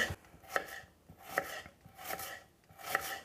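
A knife chops through an onion on a board in a kitchen, four or five evenly spaced crisp blade strikes about every 0.8 seconds, close and fairly quiet, with no talking.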